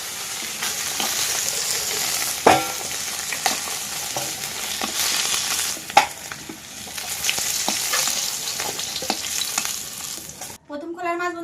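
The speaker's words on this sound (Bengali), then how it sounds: "আমার মাছ কিন্তু বন্ধুরা লাল লাল করে ভাজা হয়ে যাচ্ছে" Snakehead fish frying in hot oil in a pan, a steady close sizzle with stirring clatter and a few sharp scrapes throughout, cut off abruptly near the end.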